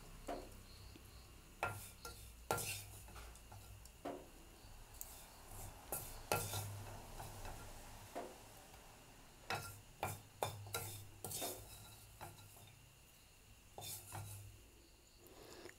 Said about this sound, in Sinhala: අපි කොස්සටයක දැන් බාගමු.